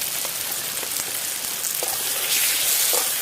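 Heavy pouring rain hitting surfaces outdoors, a dense steady hiss with scattered louder drops, continuous and alone without any talk.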